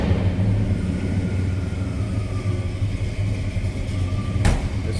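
A 1964 Ford Country Sedan wagon engine idles low and steady, a continuous deep rumble heard close by with no talking.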